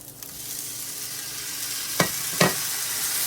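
Kimchi is tossed into a hot pan of browning, crisping Brussels sprouts, bringing a steady sizzle punctuated by two sharp clattering tosses near the end.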